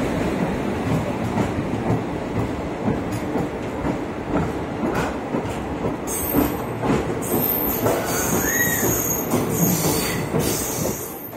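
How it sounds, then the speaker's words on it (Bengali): The Uttarbanga Express passenger train runs at speed, with a loud continuous rumble of rail wheels, rhythmic clacking over joints and bursts of high metallic wheel squeal in the later part. "উত্তরবঙ্গ এক্সপ্রেস।"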